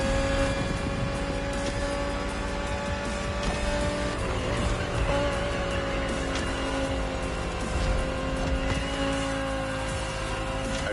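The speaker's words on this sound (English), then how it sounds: "The 2020 Audi R8 LMS GT2." A 2020 Audi R8 LMS GT2 race car in The Crew Motorfest drives on steadily, its engine a loud continuous drone with shifting pitch and bursts of tire squeal and skidding throughout.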